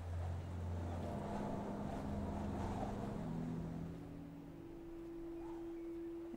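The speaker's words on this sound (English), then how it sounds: "But also, listen to that wind." Steady rushing wind in the video game Dishonored, with a low sustained hum and faint tonal whine shifting in pitch, continuous throughout without speech.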